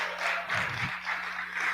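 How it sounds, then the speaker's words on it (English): Audience at a track team's comedy night clapping for a few people, a thin, moderate patter of applause with a low hum underneath and slight swells through the short stretch. "Everybody clap it up for the Chris's."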